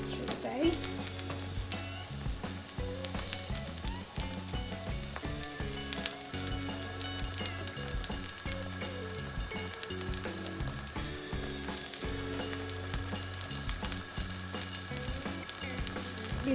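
Vegetable pancake frying in oil in a pan, a steady close crackling sizzle with dense pops running continuously, no talking.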